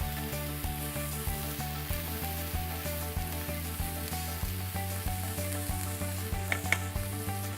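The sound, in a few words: carrots sautéing with onions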